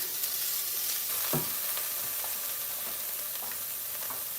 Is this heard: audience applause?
no